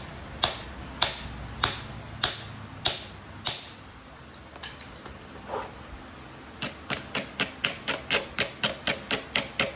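Sharp stone-like clicks from flintknapping Florida coral with a bumper, a series of strikes spaced about half a second apart, then a faster, steady run of regular taps, close and crisp.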